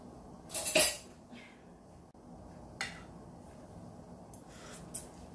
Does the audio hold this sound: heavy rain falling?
no